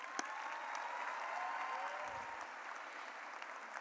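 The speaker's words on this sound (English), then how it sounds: "Let's applaud Trinity." Graduation ceremony audience at a high school applauding, a broad sustained wash of many hands clapping at steady level throughout, fairly distant in a large hall.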